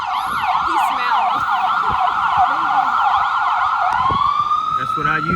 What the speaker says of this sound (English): Ambulance coming down Vine Street.